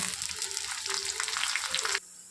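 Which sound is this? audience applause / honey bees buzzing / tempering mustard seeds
tempering mustard seeds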